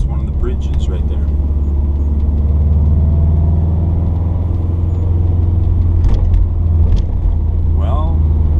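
Car engine rumbling steadily while driving through downtown Cologne from a parking garage toward the Autobahn, a low continuous drone with faint traffic noise, and someone talks over it.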